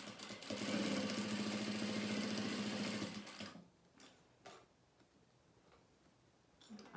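A sewing machine stitching a seam through fabric and batting runs in a fast, steady mechanical whir for about three seconds, close up, then stops, leaving soft handling noises and light clicks.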